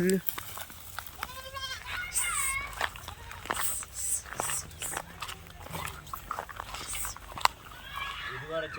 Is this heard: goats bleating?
yes